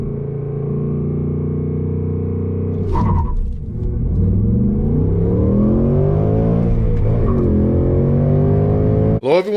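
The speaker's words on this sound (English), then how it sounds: "we're gonna do our first real world 0 to 60 test in our S650 Mustang GT" A manual-gearbox Ford Mustang GT S650 pulls hard from a standstill in a 0-60 run, its engine note rising through a gear change around three seconds, then climbing again loud and close.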